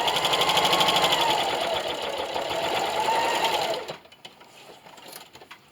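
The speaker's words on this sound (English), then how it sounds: "go ahead and sew all the way down" A sewing machine stitches a half-inch seam down a rag quilt made from old clothes, running steadily and loud with a fast mechanical whir for nearly four seconds before stopping abruptly into quiet room tone.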